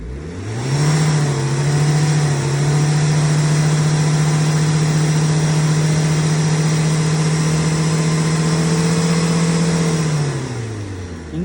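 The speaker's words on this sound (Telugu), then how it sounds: "ఎక్సలేటర్ ఇవ్వండి" An old Tata Indigo car engine revs steadily on the accelerator, rising into a sustained high-pitched drone held for about nine seconds before dropping back, loud and close with no talking.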